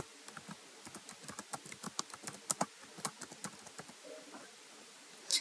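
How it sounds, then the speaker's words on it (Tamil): Full keystrokes on a computer keyboard while a school name is entered into a scholarship form, a quick uneven run of close, crisp clicks with a louder clack at the end, no talk. "ஃபுல்லாக டைப் பண்ணிக்கோங்க."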